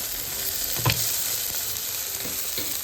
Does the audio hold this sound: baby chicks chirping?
no